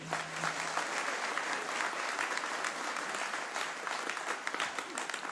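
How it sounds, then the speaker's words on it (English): Sustained applause fills a graduation ceremony hall for Whitireia and WelTec, a dense steady wash of many hands clapping from start to finish with no speech over it. "Let's give her another round of applause."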